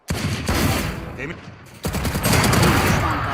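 Gunfire in the shooter Valorant: loud bursts of shots in two clusters, one at the start and a denser run after a short lull, with game sounds and a little voice mixed in.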